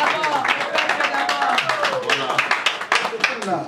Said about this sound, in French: j'aimerais bien vous présenter sous vos acclamations notre présidente Maman Sandrine Kassika.